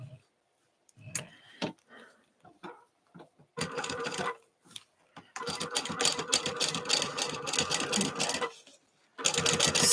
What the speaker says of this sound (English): Sew the tops and bottoms. Those need to be sewn down, not just basted.